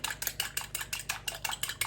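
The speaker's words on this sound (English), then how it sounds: "I'm going to take just a fork to whisk these up" Fork whisking pancake batter in a bowl, a fast steady rhythm of light metallic clicks and scrapes, close and clear with no talking.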